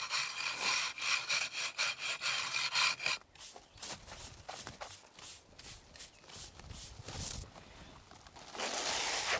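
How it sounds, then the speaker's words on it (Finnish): Dried plaster filler on a plinth is sanded by hand, giving rhythmic rasping strokes that come in quick bursts, break into slower uneven scrapes, and return to steady rubbing at the end, close and fairly loud. "Hio kuivuneesta tasoitteesta epätasaisuudet ja röysteet pois"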